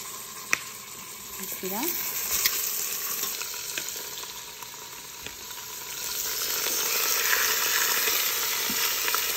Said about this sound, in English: We're gonna brown this in the Instant Pot.